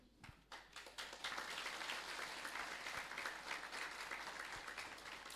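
An audience at a presentation breaks into applause, a few scattered claps first, then steady, dense clapping from many hands that carries on throughout, heard from a distance and fairly faint.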